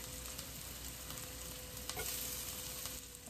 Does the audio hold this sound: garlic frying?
yes